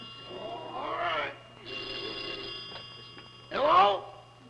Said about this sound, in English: Aren't you going to answer the phone, Jack?